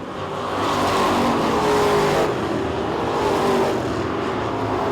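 A street stock race car roars around an oval at Cochran Motor Speedway, its engine loud and steady throughout with a slight rise and fall as it passes through the turns, with no voices.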